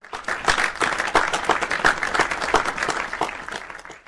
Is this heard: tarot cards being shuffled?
no